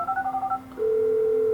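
Phone keypad dialing in Grand Theft Auto V on PlayStation 3: a quick run of about six clear touch-tone beeps, then a single steady tone that holds to the end, loud and alone with no talking.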